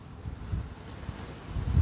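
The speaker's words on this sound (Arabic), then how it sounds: "هذا الغبار، هذه العاصفة، هذه الريح" Wind of a dust storm rumbles and buffets in low, uneven gusts, a faint, continuous roar with no voices.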